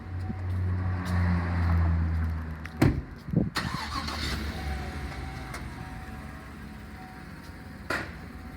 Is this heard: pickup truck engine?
yes